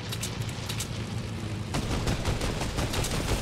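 Gunfire in a Fortnite Season 7 Battle Royale match: dense, continuous rattling shots and bursts that grow heavier partway through, loud and sustained throughout.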